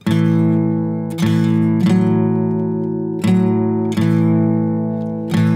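An electric guitar chord rings out and sustains, restruck a few times in a slow blues shuffle at a loping pace, with no voices.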